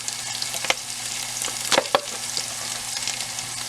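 Corn mutton frying in a pan with black pepper, a steady close sizzle with a few sharp clinks and scrapes of stirring.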